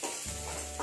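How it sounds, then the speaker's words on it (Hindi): Turmeric dropped into a small amount of hot oil for a South Indian tomato garlic chutney tempering, giving a brief close sizzle with a faint stirring scrape, no talking. "देखिए हल्दी डाल दिया मैंने"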